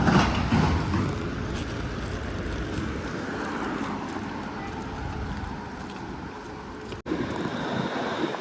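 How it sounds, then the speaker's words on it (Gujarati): Strong wind buffets the microphone in a continuous roaring rush on a Hannover street, with faint city, tram and vehicle sounds beneath and a brief dropout near the end. "પવન પણ ખૂબ આવે છે"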